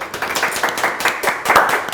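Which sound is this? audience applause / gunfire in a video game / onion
audience applause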